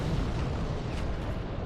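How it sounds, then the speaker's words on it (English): Steady, dense fiery roar from a combustion pyromancy spell in Dark Souls Remastered PvP, loud and continuous with a rumbling burst-like texture throughout. "I think a combustion spam's coming."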